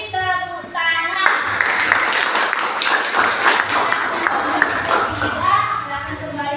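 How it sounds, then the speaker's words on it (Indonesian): Students in a classroom clap for several seconds after a group presentation, a dense burst of applause starting and fading as a voice speaks before and after. "Kita beri tepuk tangan."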